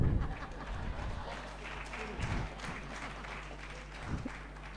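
Audience applause at a Gujarati motivational talk by Kajal Oza, a steady, moderately loud wash of clapping lasting throughout, with a low hum and faint voices mixed in.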